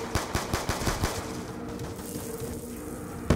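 Galil rifle fire in Call of Duty zombies comes as a rapid burst of loud, close automatic shots, then stops and leaves a fading ring.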